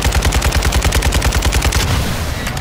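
Rapid automatic gunfire in Modern Warfare 2 as a killstreak is shot down, a loud, fast, evenly spaced burst of about twenty shots that stops abruptly, with no talk.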